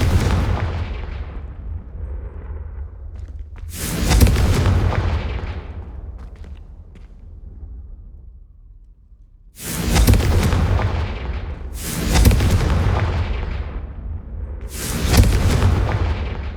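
Confringo fire spell blasts in Hogwarts Legacy, four loud booming explosions with rolling decays, spaced a few seconds apart, with no talk between them.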